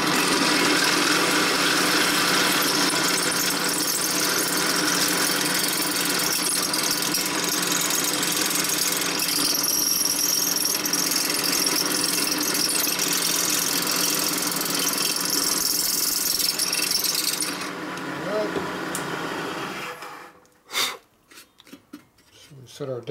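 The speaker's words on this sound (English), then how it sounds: "So we're going to drill these straight through right" Drill boring straight through the cast cylinder head of a 1958–1960 Harley-Davidson Panhead in a machine shop, a loud continuous grinding whine for about 18 seconds, then stopping, followed by a few brief clanks and taps in near-quiet.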